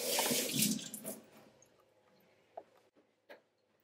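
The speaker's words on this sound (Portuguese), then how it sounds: "Deixa eu lavar a mão de novo." Hands being washed under a running kitchen tap while preparing oven-baked fish, a loud close splashing stream for about a second that fades into quieter trickling, then a few small knocks and drips.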